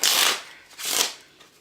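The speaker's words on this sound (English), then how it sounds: "They shuffle, as much as they want." A deck of playing cards being shuffled in two quick riffling bursts, each lasting about half a second, with a brief pause between them. The sound is crisp and close, with no talking.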